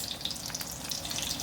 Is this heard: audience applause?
no